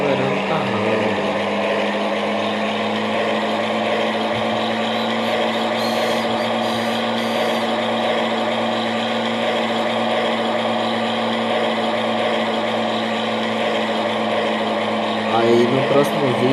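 Truck engine in the World Truck driving game revving and accelerating, a steady loud drone with constant tone throughout, no audible talk over it.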